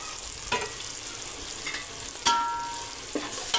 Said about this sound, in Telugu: అల్లం వెల్లుల్లి పేస్టు మంచిగా ఫ్రై అయిపోయింది